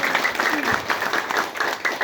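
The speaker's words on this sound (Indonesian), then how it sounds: "Kasih tepuk tangan." A crowd at a rural farmers' gathering in Lampung claps steadily for about two seconds, the applause mixed with voices and murmuring.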